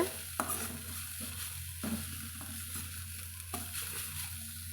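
Beetroot poriyal with grated coconut stirred in a pan: a spoon scrapes and knocks against the pan a few times over a soft, steady sizzle, close and clear with no talking.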